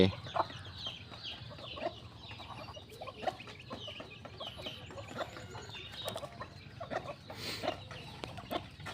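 Chickens cluck softly in short, repeated calls, fairly faint and a little distant, with no talking over them.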